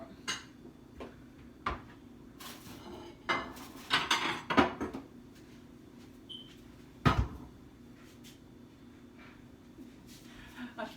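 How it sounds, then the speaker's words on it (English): A second plate comes out in a home kitchen, with scattered clinks of dishes and cutlery and a cupboard door knocking shut over about ten seconds of quiet, near handling noises. "Now let's get a second plate just because I need the additional room."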